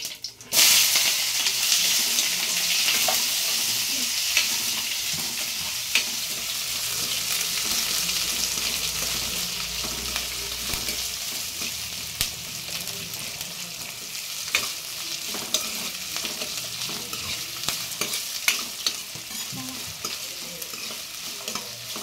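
Onions and green chillies fry and sizzle in a pan with steady loud crackle, broken by scraping stirs, a festive home cooking setting with no talk.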